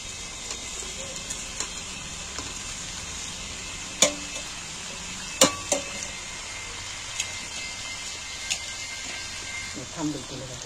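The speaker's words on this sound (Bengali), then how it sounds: "দেখো ম্যারিনেট করা মাংসটা এবার আমি তুলে দিচ্ছি" Marinated chicken frying in a hot pan gives a steady, moderate sizzle, punctuated by several sharp clacks and scrapes of a utensil against the pan.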